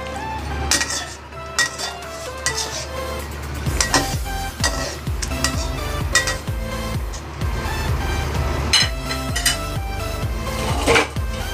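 Duck being stirred with spices in a metal pan, irregular scraping and clinking of a utensil against the pan, close and fairly loud, with sporadic sharper knocks and no talking.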